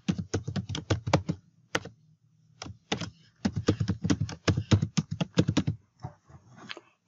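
Keystrokes on a computer keyboard while entering a Hotmail email address, quick close bursts of clicks separated by short pauses, with a brief lull in the middle before typing resumes.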